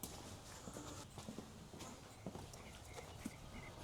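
Horses on a Texas farm walking in at feeding time, their hooves clopping in a faint, scattered run of steps heard from a short distance.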